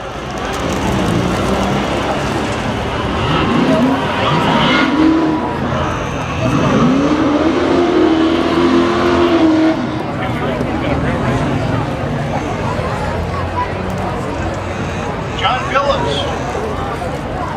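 Drag race cars at Seekonk Speedway spectator drags, a Ford Mustang against a Pontiac Trans Am, roar and rev steadily in the distance while an announcer talks over the PA throughout.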